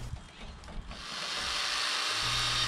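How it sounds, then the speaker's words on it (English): A power drill whirs into a truck bed slide-out panel, drilling bolt holes, starting with a few rough mechanical clunks before settling into a steady, rising high-pitched grind. "figure out where to drill bolt holes in my new panel"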